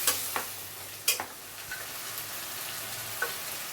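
A few spatula scrapes and taps over a soft, constant sizzle as Kashmiri chili, salt and sugar are stirred in a frying pan.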